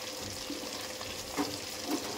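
Pomfret fish pieces fry in hot oil in a pan, a continuous close sizzle and crackle with a few louder spits and pops, no voices.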